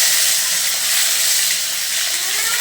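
Tomato goes into hot oil seasoned with cumin, cinnamon and cardamom, raising a loud, steady hiss and sizzle that fills the whole moment without any talking.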